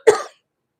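A woman gives one short, sharp cough that ends abruptly, followed by silence.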